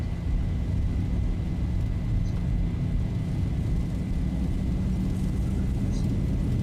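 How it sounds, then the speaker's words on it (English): Airliner jet engines spooled up to takeoff thrust in a Zibo mod 737 flight simulator, a steady loud roar with a constant whine and low rumble throughout. "Takeoff thrust set."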